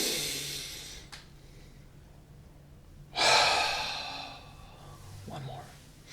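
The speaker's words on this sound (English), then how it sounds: "Take a deep breath in" A slow, deep breath is drawn in, soft and close, followed by a louder airy exhale; quiet and calm, with brief breathy sounds at the edges.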